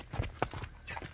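Hooves of yearling colts brought from Russia step on the ground, a few soft quick thuds and clops heard faintly and close.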